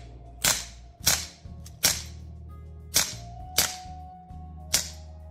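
Six sharp cracks from a replica 9mm Glock pistol fired in an uneven rapid string over about five seconds, each loud report trailing off briefly, with a steady low hum underneath.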